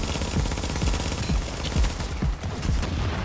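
Rapid submachine gun fire in The Division, loud close bursts of repeated shots with brief gaps, a sustained rattling firefight.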